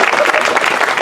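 Theater audience at a Shakespeare comedy performance bursts into steady, dense applause, loud and close, with a crowd murmur blended in.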